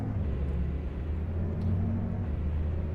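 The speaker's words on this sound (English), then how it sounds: "Oh god, that car almost pulled in front of me." A car passes on a road in the video game Farming Simulator 25, heard as a steady, loud low engine rumble that fills the clip with no break.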